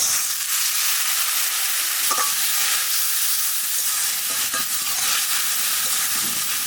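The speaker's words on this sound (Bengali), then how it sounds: "জিরের গুঁড়ি, ধনের গুঁড়ি, একটু ঝাল লঙ্কার গুঁড়ি, একটু জল দিয়ে দেবো যাতে মশলাটা না পুড়ে যায়।" Ground cumin, coriander and chilli powder sizzling with onion and a splash of water in a hot pan, a steady loud hiss with occasional stirring scrapes throughout.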